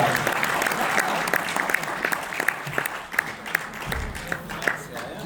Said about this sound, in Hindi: जोरदार तालियों से स्वागत किया जाए इनका।